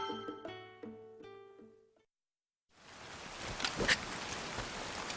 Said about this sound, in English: While Zelda and Link seek refuge from the rain beneath the tree